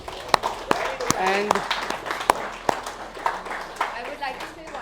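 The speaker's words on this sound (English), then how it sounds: "Let's clap for this." Scattered, uneven claps from an audience at an award ceremony in Dubai, sharp individual hand strikes popping out over a person speaking.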